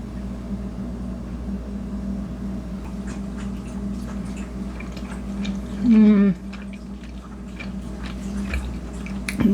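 Someone eats lemon chicken pasta: soft, wet chewing and biting sounds close to the microphone, with a brief vocal hum partway through over low background hum.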